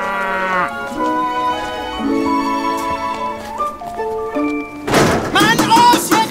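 Cattle moo in long, drawn-out calls that shift in pitch, heard fairly loud over a steady tonal background, followed near the end by a burst of denser, noisier sound.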